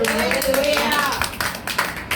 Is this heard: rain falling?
no